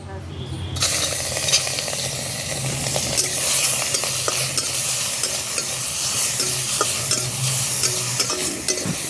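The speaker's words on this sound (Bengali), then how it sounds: "তো এখন চিংড়ি মাছগুলো ভেজে নেব।" Prawns frying in hot mustard oil in a wok, a loud continuous sizzle and crackle with scattered spatter pops and stirring scrapes, close and steady throughout.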